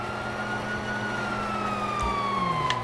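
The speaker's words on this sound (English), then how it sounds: "you hear that? Sirens." Police sirens wail in the GTA 5 video game, a steady high tone slowly falling in pitch over a low engine rumble, heard alone for a few seconds.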